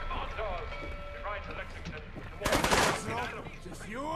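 Automatic gunfire in Fallout 4, a loud burst of rapid shots midway through, with someone talking over the game sounds before and after.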